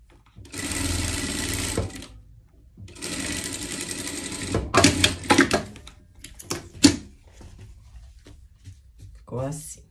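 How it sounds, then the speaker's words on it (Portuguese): Sewing machine stitching a safety seam on a Christmas pet dress, running in two steady bursts of about a second each, then a sequence of short clattering handling sounds and a brief voice near the end. "Vamos passar uma costura de segurança."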